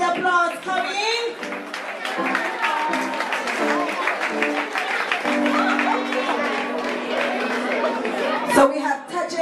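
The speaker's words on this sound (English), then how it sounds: "Clap the students, keep the applause coming." Guests at a primary school graduation in Kellits applaud the students. Crowd chatter, voices and clapping mix together in a busy hall, and a sustained tone runs through the middle of the clip.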